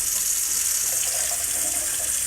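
Water runs steadily from open taps in a house with a slab leak awaiting a repipe, a continuous close hiss and splash with no one speaking.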